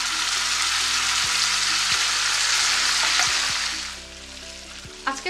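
Chickpeas tipped into a pan of frying onions sizzle in a steady, loud broadband hiss, with a few low scraping stirs and a final clatter near the end as the sizzle eases.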